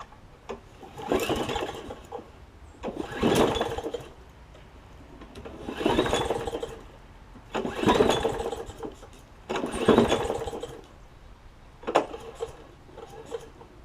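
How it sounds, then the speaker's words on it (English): Briggs & Stratton Quantum engine on a long-stored push mower cranking with repeated pull-starts, about six rhythmic bursts of rasping turnover with short pauses between them, close and fairly loud, with no talking. "Priming a couple times. See if it'll crank."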